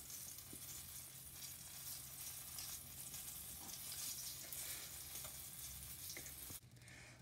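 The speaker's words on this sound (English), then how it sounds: "Okay, so the pancakes are cooking." Pancakes with strawberry frying in a pan, a quiet, steady sizzle and hiss with a few light ticks, fading somewhat near the end, with no talking.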